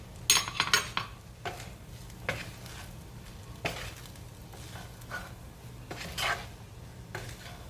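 A spatula stirs salmon and shrimp fried rice in a hot pan. Scraping strokes recur every second or so over a steady low sizzle, close and moderately loud.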